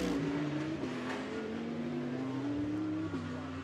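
A Porsche GT race car drives at Brands Hatch, its engine a steady loud drone that shifts pitch a few times as it accelerates and changes gear.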